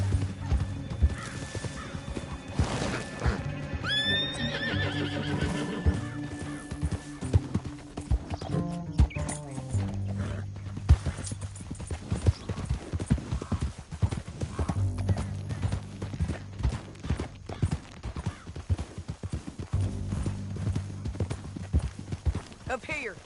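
Video game horses (Red Dead) gallop with steady clopping hooves, a horse whinnies, and voices talk over the continuous pounding.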